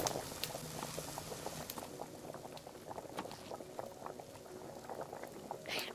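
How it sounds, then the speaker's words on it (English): Video game bubbling from a kitchen scene, a rapid soft boiling patter that runs steadily and quietly with a few brighter pops. "I really hate the bubbling sound."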